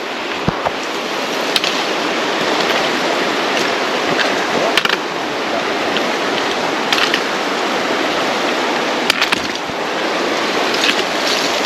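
A creek runs fast beside a hiking trail near a natural rock arch in northern British Columbia. The water rushes in a steady, loud, close wash, and a few sharp knocks and clicks stand out against it.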